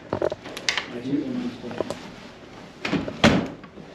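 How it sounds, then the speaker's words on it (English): Double swing door being shut on a fresh install and latching, a couple of light knocks and a sharper clunk near the end, with handling noise and some speech around it. "So just take a look when we shut the door and see if it latches."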